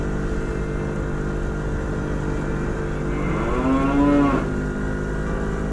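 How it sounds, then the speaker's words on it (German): A cow on an Alpine mountain road gives one long, drawn-out moo that rises and falls, loud and close, over a constant low rumble of idling engine or road noise. "Bei einer Motorradtour durch die Alpen dürfen die obligatorischen Kühe auf der Straße natürlich nicht fehlen."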